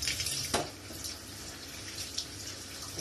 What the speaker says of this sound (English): you must wash your vegetables. Yep. Wash them thoroughly.